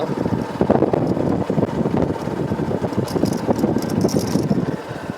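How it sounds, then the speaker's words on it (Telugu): Strong wind buffets the microphone with a continuous rough, gusty rumble, loud and close, with no voices. "గాలి బాగా వస్తుంది మీకు వినిపిస్తుందో లేదో మరి"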